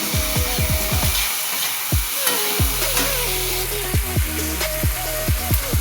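Chopped tomatoes frying in a pan with black cumin, onion and oil send up a continuous hissing sizzle at close range, accompanied by repeated sweeping tonal sounds.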